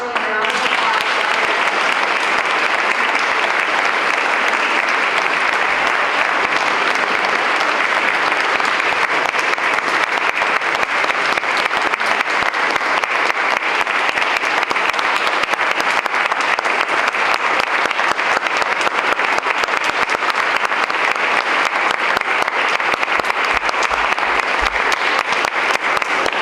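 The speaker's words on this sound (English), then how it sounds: "Please join me in a round of applause." A large crowd at a veterans recognition ceremony claps loudly and steadily, a dense unbroken wash of applause that lasts the full stretch.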